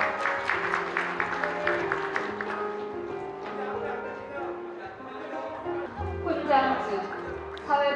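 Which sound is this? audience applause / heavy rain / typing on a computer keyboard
audience applause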